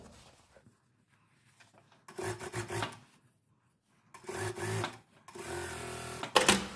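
A sewing machine stitches a pocket onto trousers in short separate bursts of close, busy mechanical whirring, stopping and starting between runs with quiet gaps.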